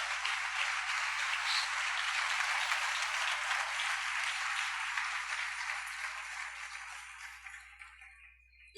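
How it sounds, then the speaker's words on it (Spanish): Sustained applause from a church congregation, a dense steady wash of many hands clapping that gradually thins and fades away toward the end. "denle un aplauso al Señor"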